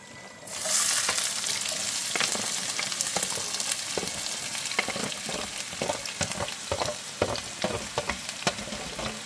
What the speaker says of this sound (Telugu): తగినంత ఆయిల్ వేసుకొని ఇప్పుడు ఉల్లిపాయ వేసేసుకొని వేయించేసుకోండి